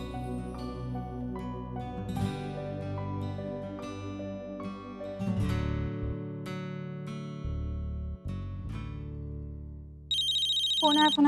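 A phone ringtone plays in a Hindi TV drama scene, a melodic electronic tune that loops for several seconds alongside background music, ending in a sharper, brighter ring at the close.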